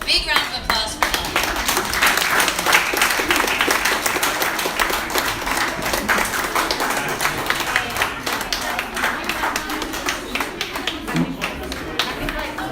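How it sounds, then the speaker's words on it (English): An orchestra concert audience claps in sustained, fairly loud applause, mixed with a few voices and scattered taps, continuing throughout without fading out. "So big round of applause for them."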